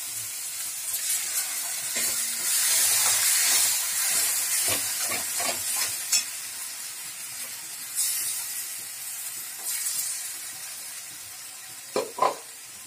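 Spinach, coriander and green chilli paste hits hot spices in a pan for palak paneer, giving a loud, steamy hissing sizzle that slowly fades, followed by a few stirring knocks and clinks close by.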